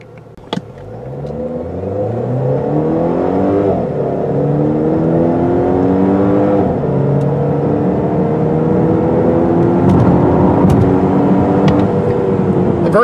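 A 2017 Volvo V90 Cross Country T6 AWD wagon's four-cylinder engine accelerates hard, its drone rising steadily in pitch through the gears. The sound is close and continuous, with no talking.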